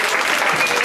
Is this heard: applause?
yes